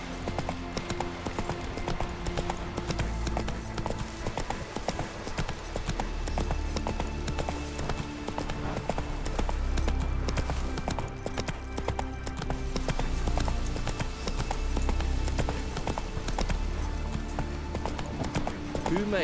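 Hooves of Roach, Geralt's horse in the video game The Witcher 3: Wild Hunt, clip-clopping in a steady rhythm throughout under game music and ambience, with a possible brief whinny.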